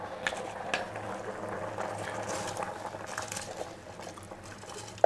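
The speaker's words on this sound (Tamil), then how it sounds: "இப்போது தண்ணி நல்லா கொதிக்குது" Water boiling in a pot for chicken biryani, a steady soft bubbling and simmering hiss, close and fairly quiet, with a faint clink at the end.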